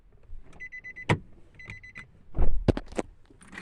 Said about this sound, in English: Let me lower the windows because it's gonna lock.